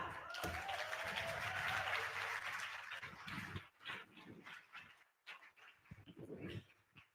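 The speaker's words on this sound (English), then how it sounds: "All right, conference, let's cheer them on." A conference audience cheers and claps loudly and steadily for several seconds, then the crowd noise breaks up into scattered bursts, whoops and voices.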